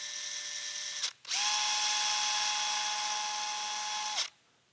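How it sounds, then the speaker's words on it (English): An electric drill whines in two bursts while drilling through epoxy, a short one, a brief pause, then a longer steady run at high speed before stopping. "we're drilling through epoxy, so it's not like it's going to fight us too much"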